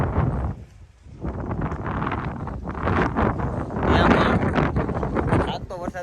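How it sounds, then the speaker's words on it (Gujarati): Strong gusty wind buffets the microphone outdoors as a rainstorm approaches, a continuous roaring rush that rises and falls, with someone talking over it. "આંખ ન ખુલતી એટલી તો પવન ઉડે છે અત્યારે"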